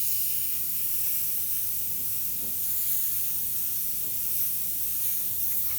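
An airbrush sprays strong violet paint for a galaxy painting in one continuous, close, breathy hiss that holds steady without pause.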